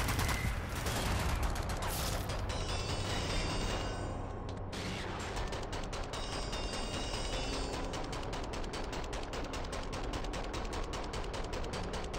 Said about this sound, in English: the machine gun lets you fire it in slow-mo